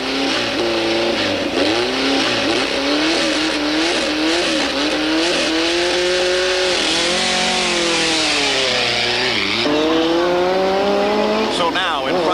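Off-road race vehicles at the 1987 Baja 1000 roll out from a harbor road start line, engines revving loudly and rising and falling as they pull away, with an announcer talking over the steady roar.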